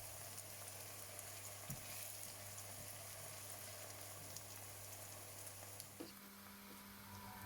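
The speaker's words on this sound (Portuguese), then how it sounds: "Convém ir mexendo a pouco e pouco para não deixar agarrar ao fundo do tacho, mesmo que este seja antiaderente" Food sizzles softly in a non-stick pot while being stirred, a steady quiet frying hiss with a few faint scrapes and no voices.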